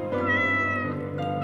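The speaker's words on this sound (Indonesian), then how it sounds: "Sejak 3 malam terakhir, selalu ada suara kucing di gentengnya." A cat on a house's tiled roof at night gives one long, clear, drawn-out meow, close and loud, with no other sounds around it.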